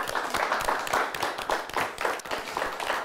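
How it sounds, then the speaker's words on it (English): A studio audience at a televised high-school quiz show, Frankenmuth versus North Branch, claps steadily in a loose, pulsing rhythm at an even, moderate level. "Let's give him a nice round of applause."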